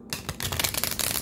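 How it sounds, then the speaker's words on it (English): Tarot cards shuffled by hand up close, a dense rapid riffling patter of slapping card edges that runs continuously for about a second. "Let's shuffle the tarot."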